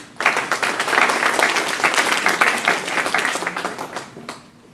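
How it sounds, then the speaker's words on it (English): An audience at a San Francisco Human Rights Commission panel breaks into a warm round of applause that starts suddenly, holds dense and loud for several seconds, then tapers off. "Can we have a round of applause for them?"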